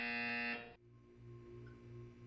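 A loud, harsh electronic buzzer sounds in the game Portal for about half a second and then cuts off abruptly, leaving a low droning hum with faint background tones.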